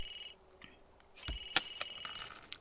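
Phone ringing in The Sims 3, a bright electronic ringtone chiming in short bursts, cut off briefly and then resuming with a clatter, close and with no talk.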